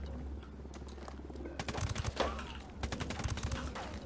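Gunfire in the co-op shooter Ghost Recon Wildlands: quiet at first, then a cluster of sharp rapid shots and scattered bursts crackling at moderate distance over a low background hum.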